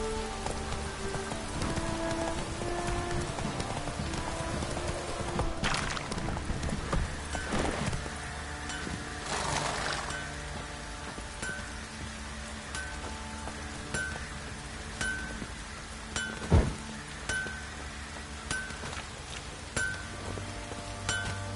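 Steady rain patters in The Witcher 3, a continuous hiss of drops on surfaces under horse hooves clip-clopping and occasional game sounds, moderately loud throughout.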